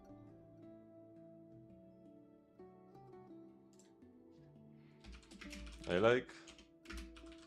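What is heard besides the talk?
typing on a computer keyboard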